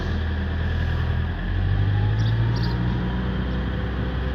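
A 2004 Fiat Ducato van idles and pulls in first gear during a tight turn, producing a steady low engine drone that swells slightly partway through, close and continuous with no talk.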